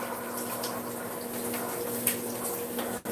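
Cold tap water running steadily to rinse butter off a utensil, a continuous close splashing rush with small clatters, ending in a brief cutoff.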